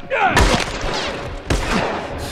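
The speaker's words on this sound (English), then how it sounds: "stop shooting me for a minute" Enemy gunfire in The Last of Us, loud close bursts of shots with reverberant echo, including a heavy blast near the start and another around the middle, over a noisy battle background.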